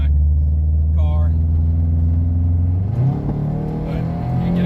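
Lifted Honda CR-V cruising on a highway, with a steady loud low engine and road drone throughout and a brief shift in pitch partway, with faint voices beneath.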